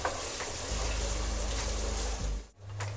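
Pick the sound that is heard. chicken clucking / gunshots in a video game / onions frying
onions frying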